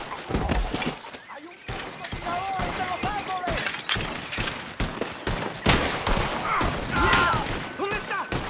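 Gunfire rattles through a Red Dead Redemption II shootout, rapid cracks and volleys repeating across the stretch, loud and close, mixed with game voices and effects throughout.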